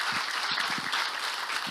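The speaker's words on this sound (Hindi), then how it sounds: "मैं आपके लिए ताली बजाना चाहता हूं।" Audience applause at a church gathering, a dense wash of many hands clapping, steady and somewhat distant, with a few sharper individual claps standing out near the front.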